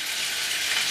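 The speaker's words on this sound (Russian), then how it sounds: "Обжариваю кролика, сейчас добавлю морковку, лук, все это как всегда обжарю." Rabbit meat frying in a pan, a steady, bright sizzle and crackle of hot oil that holds continuously and up close.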